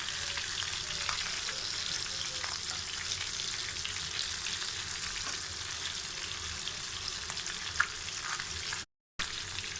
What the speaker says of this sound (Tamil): இதை இப்போது மீன் பார்த்திங்கன்னா ஒரு பக்கம் நல்லா பொரிஞ்சிருச்சு